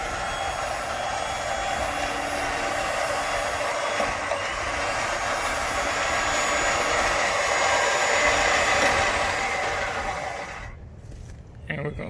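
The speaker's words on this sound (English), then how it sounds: "I'm gonna keep a little bit of pressure on the winch." An X Bull winch hauls synthetic rope under tension, giving a continuous whining motor drone that holds steady for about ten seconds, then cuts out. No one speaks over it.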